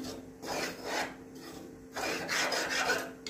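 Maida flour being stirred and roasted in a pan over medium heat, heard as repeated scraping, rasping strokes in an uneven rhythm, close and moderately quiet.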